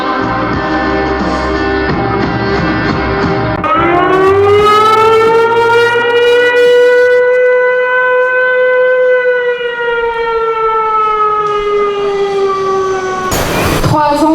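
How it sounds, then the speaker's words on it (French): An air-raid-style siren sounds at a Montpellier rally marking three years of war in Ukraine. It rises into a loud, sustained wail that holds steady for several seconds over crowd noise, then breaks off into a burst of noise at the end. "Que les Ukrainiens et leurs enfants célèbrent avec ces sirènes-là."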